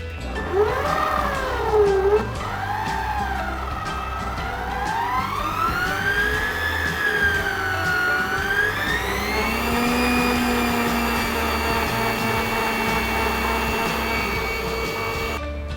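An electric mixer whirs loud and close as it beats room-temperature butter and sugar for a plum cake, its motor pitch sliding up and down and then holding steady, with no talking.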